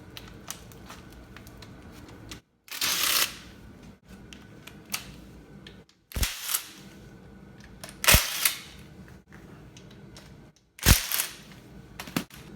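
Impact wrench removing 10mm bolts while tearing down a damaged SR engine, several short loud rattling bursts separated by quieter gaps, with no talking.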